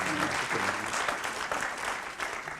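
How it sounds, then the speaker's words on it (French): Audience applause at the opening of the Smart City Marseille 2018 forum, a continuous bed of many people clapping in a hall, fairly even and unbroken, with a faint murmur of voices beneath. "sous vos applaudissements."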